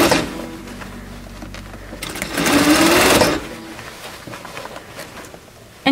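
A sewing machine top stitches the seam of a fabric face mask, running steadily and close, with a louder stretch of fast stitching in the middle before it eases off.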